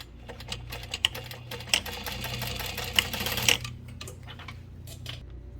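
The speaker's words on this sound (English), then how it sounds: "sew across really close to the end of this fold there" A sewing machine stitches across a folded fabric edge, a close, fast mechanical whir with rapid ticking needle strokes that runs steadily, then pauses near the end.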